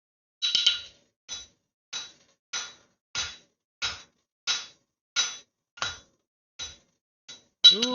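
Hammer striking hot steel while forging a knife, about a dozen evenly spaced bright metallic clinks at roughly one per second, close and ringing, alone without talk.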